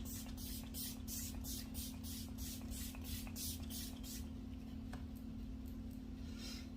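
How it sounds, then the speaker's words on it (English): Repeated short hisses of an e.l.f. Stay All Night Microfine Setting Mist being sprayed, about a dozen quick even bursts close to the mic over a steady low hum, then quiet. "this is the E.l.f. Stay All Night Microfine Setting Mist, up to 16-hour wear"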